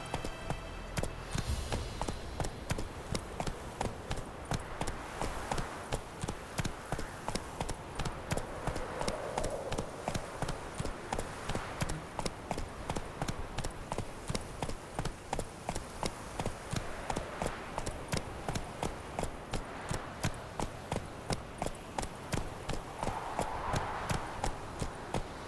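A horse gallops in the video game The Witcher 3: Wild Hunt, a steady fast rhythm of hoofbeats that runs unbroken throughout, moderately loud and close.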